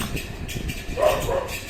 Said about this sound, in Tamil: வெளியில நாய் குலைக்கு.